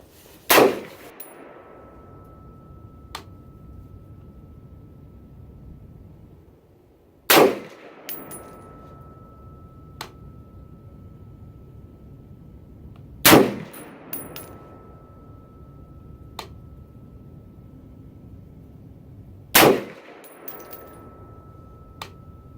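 Four loud, sharp rifle shots from a Palmetto State Armory PA-65 in 6.5 Creedmoor firing Hornady 143 grain ELD-X Precision Hunter rounds at a 100-yard range. The shots come about six seconds apart, each with a short ringing tail over quiet outdoor background.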